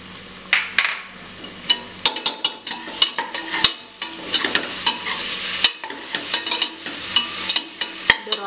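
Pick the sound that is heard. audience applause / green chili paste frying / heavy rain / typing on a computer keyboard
green chili paste frying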